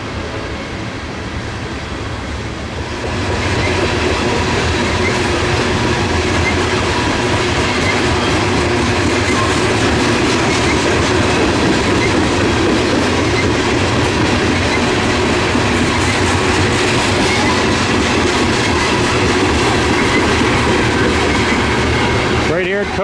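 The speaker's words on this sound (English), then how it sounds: "as a coal train goes by" A long coal train rumbles past close by at Coke Ovens, West Virginia, with steady loud rolling, rhythmic clickety-clack of wheels and occasional squeals, building up after a quieter start.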